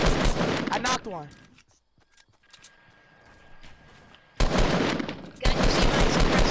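Rapid automatic gunfire from the video game Fortnite rattles in loud bursts, stops for a few seconds, then comes back hard, with players' voices talking over it.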